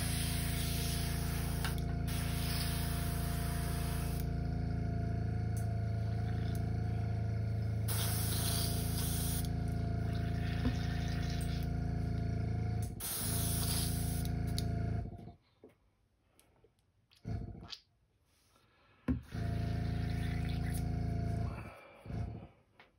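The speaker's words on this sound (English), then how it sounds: "Clean it out of my airbrush." An airbrush being cleaned out sprays in loud, steady hissing bursts with a motor-like hum underneath, pausing briefly around the middle, then cutting off into near silence broken by a few short spurts.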